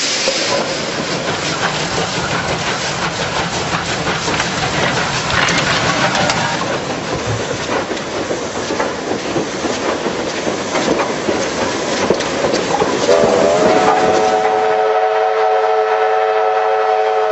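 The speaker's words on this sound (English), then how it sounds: "Or taking a ride on an historic steam train." A historic steam train in the Victorian goldfields rumbles and clatters steadily at close range, then a loud, sustained multi-note whistle sounds over the running noise.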